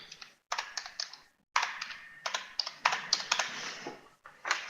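Typing on a computer keyboard during spreadsheet work: close, crisp bursts of key clicks in quick irregular runs, broken by short pauses, with no voices.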